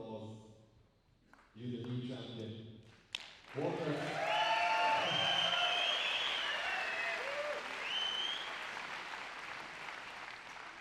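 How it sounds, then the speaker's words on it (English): A squash arena crowd bursts into loud, sustained applause and cheering for Ramy Ashour after his final match, the clapping swelling and holding steady for several seconds after a brief stretch of speech at the start. "that is one elated applause for Ramy Ashour"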